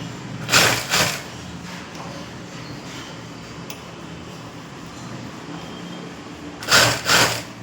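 A sewing machine stitches the border of a lining in two short bursts near the start and end, separated by quieter room noise.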